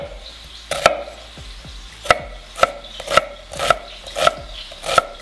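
A knife dices an onion on a cutting board, a few scattered strokes giving way to steady, evenly spaced chops that ring out close and clear against a quiet kitchen.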